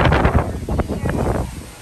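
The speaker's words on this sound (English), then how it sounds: "it's already super windy." Strong wind buffets and roars across the microphone in a steady, loud rush outdoors at Disney Springs, with no voices present.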